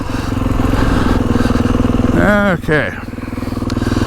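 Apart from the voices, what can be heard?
Kawasaki KX450X dirt bike accelerating in second gear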